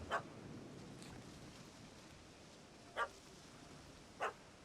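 A dog barks in the video game Witcher 3: Hearts of Stone, three short faint barks spaced apart over a steady background hiss.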